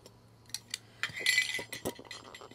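A metal camping cooking pot is opened and handled, giving scattered light clinks and a cluster of ringing metallic taps, close and clear against a quiet low hum.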